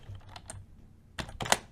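Keys clatter on a computer keyboard during game coding work, with soft scattered taps early on and a louder burst of rapid strokes near the end, close to the microphone.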